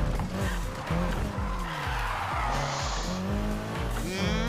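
Car cornering in the Need for Speed Heat video game, with a revving engine stepping through repeated gear changes and tires squealing loudly through the turns, continuous and up close.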